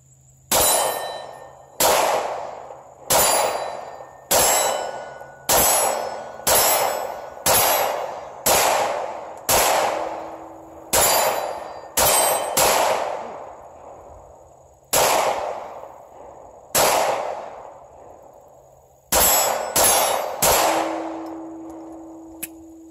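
A Steyr M9A1 pistol fires around twenty sharp shots at steel targets outdoors, spaced irregularly in quick pairs and singles, each crack followed by a bright metallic ring from the struck steel.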